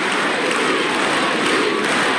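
A large tennis crowd at the 1992 Roland Garros final cheers and applauds loudly for Steffi Graf, a dense continuous roar with no clear individual voices.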